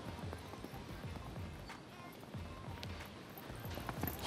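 A show jumping horse gallops around the arena during the jump-off at Equita Longines Lyon, its steady rhythmic hoofbeats fairly faint against a soft arena background.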